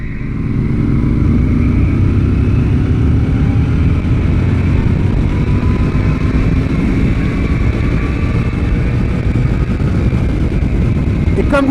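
A Royal Enfield Interceptor 650 twin accelerating hard in third gear, the engine note droning and climbing steadily in pitch for about eleven seconds, loud and close with wind noise and no talk.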